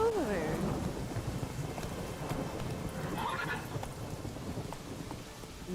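Horse sounds from The Witcher 3 video game: a neigh near the start, then hoof clatter under steady rain, with a faint rumble like thunder.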